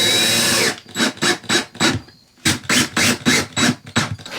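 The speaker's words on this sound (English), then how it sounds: "So I'm going to screw those in." A power drill drives screws into wood to secure a van's water tank, loud and close, with a long whine followed by a string of short, rhythmic bursts, a brief pause, then another run of quick pulses.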